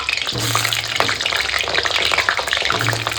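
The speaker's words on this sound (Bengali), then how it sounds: "এখন তেল বসিয়ে দিয়েছি সরিষার তেল এখন আলুগুলোকে ভেজে নেবো" Potatoes frying in mustard oil in a pan, a steady close crackling sizzle with occasional stirring scrapes throughout.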